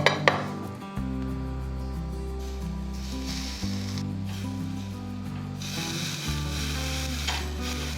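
Beef pieces grilling with yakiniku sauce, a continuous sizzle under sustained tonal hums that shift pitch in steps, with occasional metallic clinks.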